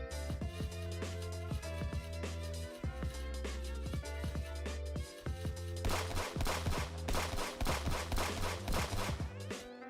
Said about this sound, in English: if I mute the sounds here, the gunshots can actually be heard on stream